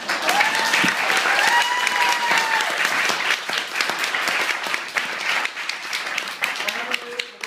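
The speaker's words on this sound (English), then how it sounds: "I want you all to give her a round of applause." A crowd at an engagement party claps and applauds loudly and continuously for several seconds, with a few cheers and whoops rising above the clapping.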